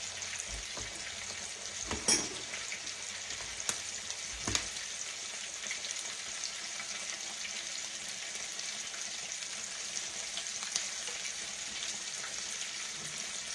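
A whole Superior catfish frying in a pan of hot oil, giving a steady, moderately quiet sizzle throughout, with a few soft clinks and pops near the start.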